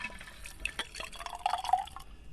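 A classic daiquiri cocktail is poured into a glass, giving a short trickle with small drips and icy splashes over a few seconds, close and fairly quiet.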